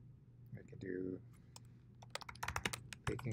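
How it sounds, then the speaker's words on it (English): Quick clicks and keystrokes on a computer keyboard come in an uneven burst toward the end, close and crisp, after a brief hum and a voice at the start. "this is just simply clicking and typing to make this your own"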